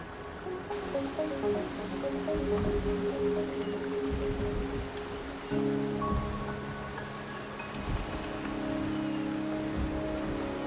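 Steady rain falls across a Wuthering Waves game scene, a dense, even patter on surfaces with scattered drops, continuous and fairly close with no talk.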